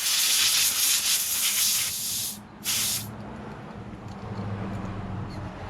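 An air compressor nozzle blows out the parts of a Smith & Wesson M&P 15-22 rifle in two sharp, close bursts of hissing air, followed by a quieter low rumble.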